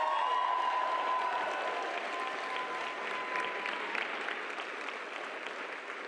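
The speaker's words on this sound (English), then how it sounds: "Let's give her another round of applause." Sustained applause from a dinner crowd fills the room at steady volume, a dense wash of clapping heard alone with no talk over it.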